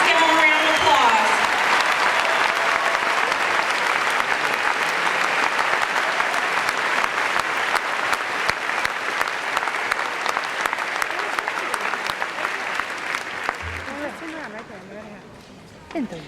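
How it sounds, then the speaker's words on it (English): Applause at a high school graduation ceremony as seniors leaving to enter the military services stand, a loud, sustained crowd clapping lasting over a dozen seconds before tapering off, with voices murmuring underneath. "Please give them a round of applause."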